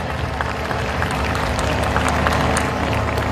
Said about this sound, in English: Can we have a big round of applause to the BBRT management?